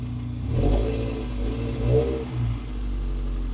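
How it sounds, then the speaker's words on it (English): A 30-year-old Toyota MR2 with 270,000 miles, newly running after two months and with a fault, is revved on the choke, giving two swelling revs over a steady low idle heard up close. "We'll give it a wee rev from the choke."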